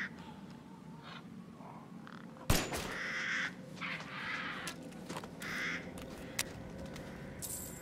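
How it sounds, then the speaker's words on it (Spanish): Crows caw in the Resident Evil Village video game, a few harsh calls over a murky game ambience, with a sharp loud hit partway through and scattered cries afterward. "¿Cuervos dan algo?"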